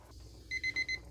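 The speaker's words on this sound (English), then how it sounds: "So that is our 75-minute timer going off." A kitchen timer set for 75 minutes while pressure-canning butter beans goes off in four quick, evenly spaced electronic beeps, faint and alone over a low background hum.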